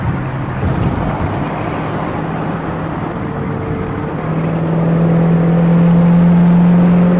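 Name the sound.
1965 Ford Mustang 289 V8 accelerating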